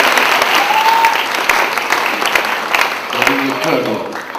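A church congregation claps to praise God during a healing prayer meeting, sustained hand-clapping that stays fairly loud throughout while voices call out over it.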